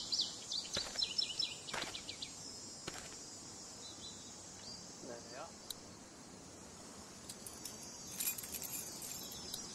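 Metal keys jingle and clink in short bright bursts inside The Walking Dead video game, quiet over a soft ambient bed with faint chirps and a voice speaking.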